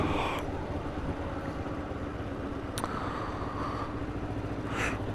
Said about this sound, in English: in town it's actually quite good. It's not hesitating, it's not chuggy as such.